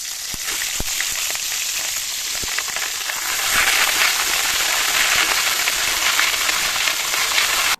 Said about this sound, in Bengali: এবার চুলায় একটা কড়াইতে অল্প পরিমাণে তেল দিয়েছি, এখন একটা একটা করে পাতুরি এখানে দিয়ে দিব